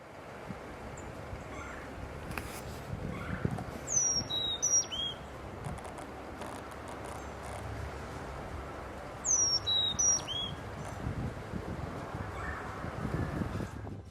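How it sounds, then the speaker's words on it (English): Carolina chickadee calling outdoors at a Florida pond at sunrise, two short bursts of high chirps a few seconds apart, fairly faint over a steady wash of insect and wind ambience. "Is that Carolina chickadee?"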